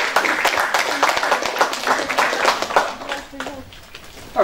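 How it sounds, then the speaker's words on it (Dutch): Judo club members in a Dutch dojo clap for themselves at an award presentation, a brief uneven patter of applause from a modest group with voices mixed in, tapering off toward the end. "applaus voor jezelf"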